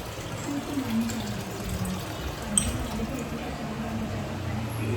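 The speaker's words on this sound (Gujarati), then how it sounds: "આપણી ચકલી ચાલુ રહી છે, પાણી બંધ કરી દઈએ" Water runs steadily from a household tap, a soft continuous rush close by with someone talking over it.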